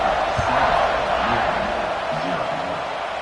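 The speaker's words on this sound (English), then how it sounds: "this crowd is buzzing after that last score" A college football stadium crowd at a Louisville versus Notre Dame game keeps up a loud, steady roar after a score, with a broad wash of massed voices continuing throughout while a commentator talks over it.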